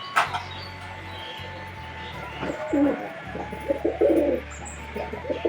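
Pet pigeons coo in a series of soft, throaty calls close by, in bursts over a low steady hum, with no voices.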